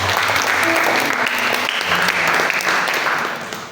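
A church congregation applauds during an afternoon worship service, steady dense clapping filling the room for several seconds before tapering slightly at the end.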